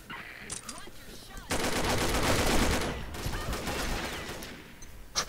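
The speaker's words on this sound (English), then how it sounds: "Who the hell is shooting at me?" Rapid automatic gunfire rattles in a sustained burst in the shooter video game Combat Arms, preceded by a few scattered shots and followed by a quieter trailing volley.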